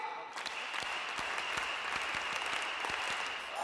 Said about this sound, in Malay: mari kita sama-sama buat tepukan semangat Elkan